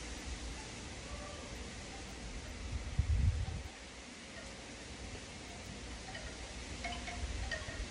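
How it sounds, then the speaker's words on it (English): Wind blows outdoors as a steady broadband rush and rumble across the microphone, with a brief heavier buffet partway through, moderately loud and without any talking. "Y'all hear that wind?"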